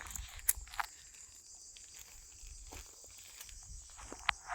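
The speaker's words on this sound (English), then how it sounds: "Apart from the really loud crickets." Loud crickets chirp steadily in a quiet outdoor setting high in the Troodos Mountains of Cyprus, with a few sharp clicks and faint rustles scattered through.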